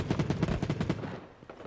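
Rapid automatic gunfire from a light machine gun in the mobile shooter Battle Prime, a fast burst of sharp shots for about a second that stops and leaves a few fainter pops.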